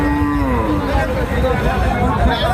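A loud, drawn-out cow moo over a dense background of crowd chatter and rumbling noise at a busy dairy cow market in Sonaichandi, Chapainawabganj, Bangladesh.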